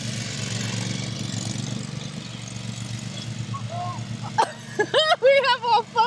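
A lawn mower engine runs loudly up close with a steady, throbbing drone while it cuts grass, and voices talk over it toward the end.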